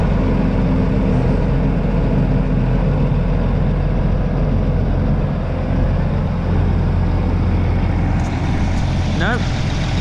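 A tractor engine idles close by in a steady, loud low rumble, bogged in the ground, with a brief higher whine near the end and voices talking over it.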